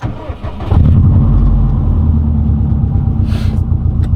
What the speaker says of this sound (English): All right, turn the car and let it idle for a little bit